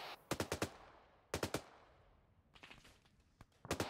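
Incoming rifle and machine-gun fire in Arma 3, quick bursts of sharp cracks in short clusters with gaps between them, fairly distant and thin.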